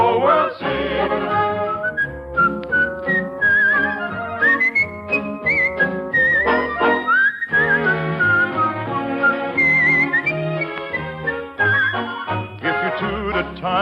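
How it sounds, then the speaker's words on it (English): A penny whistle plays a lilting melody over a musical accompaniment, bright piping notes in a steady tune, loud and continuous with no speech. "your penny whistle sound is floating to the moon"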